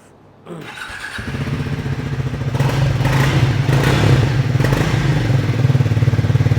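A Triumph Speed 400 motorcycle engine fires up and idles with a throaty, pulsing exhaust rumble that rises as it revs, loud and close.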